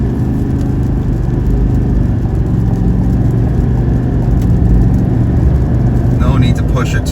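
A 2024 Chevy Silverado 2500 ZR2 Bison truck accelerating hard on a rainy road, heard from inside as a steady, loud low engine rumble and whir that builds slightly, with a voice speaking over it.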